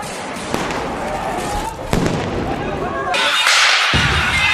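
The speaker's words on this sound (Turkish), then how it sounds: "Kudüs'te gaz ve ses bombaları patladı." Gas and stun grenades explode in Jerusalem near Al-Aqsa Mosque: sharp cracks and bangs go off amid crowd noise, with a loud burst near the middle and a harsher, hissing blast toward the end.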